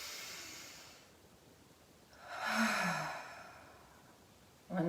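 A long breathy exhale through the mouth during a yoga breathing exercise swells up and fades, nearby and soft, followed by the start of another breath.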